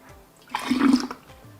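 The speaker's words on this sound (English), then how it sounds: "quickly I'm going to just pour the juice into the bottle" Fermented beet juice, a kvass, is poured through a strainer into a bottle as a short liquid splash and gurgle of about half a second, close and alone.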